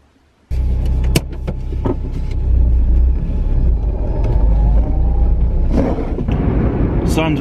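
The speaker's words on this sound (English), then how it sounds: "So I'm driving to the city of Kran," A car drives toward a nearby city, its steady low engine rumble and road noise starting abruptly and continuing close and loud, with a few sharp interior clicks and knocks.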